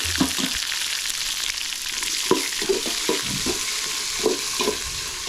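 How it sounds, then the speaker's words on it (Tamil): Hot oil sizzles and crackles steadily, with a series of soft pops and spatters as tempering spices fry for a kuzhambu curry, close up and without any talking. "வடித்து குழம்பு தாளிக்க ஆரம்பிச்சிட்டேன் இதில் வந்து எண்ணெய் ஊற்றி"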